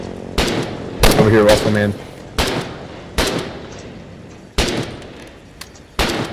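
Airplane strafing run in the war game Foxhole, with several sharp gunfire bursts in quick succession, close and loud, while players talk over the shooting.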